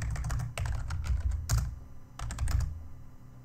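A command typed on a computer keyboard on a Debian Linux setup: quick, quiet bursts of close keystrokes with short pauses between runs.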